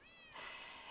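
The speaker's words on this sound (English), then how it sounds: "I have about 4 cats to name." A cat in the game Minecraft gives one short, close meow that rises then holds, brief and clear with no talking over it.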